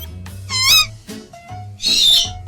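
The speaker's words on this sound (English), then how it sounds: "It's an owl." An owl hoots in two separate calls with a short pause between them, close and clear, with no talking.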